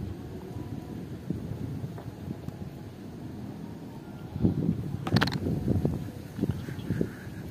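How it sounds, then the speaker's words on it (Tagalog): Strong wind blows outdoors during lakeside fishing among dense water lilies, a steady low rumble of buffeting with a few heavier gusts and soft knocks, no voices. "Lakas pa ng hangin, tinatangay yung rod."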